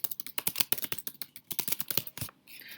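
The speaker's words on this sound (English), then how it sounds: "So I'm going to type in the course title." Rapid keystrokes on a computer keyboard as a course title is typed into the Gooru course builder, a close, crisp run of clicks lasting a few seconds with a short softer rustle at the end.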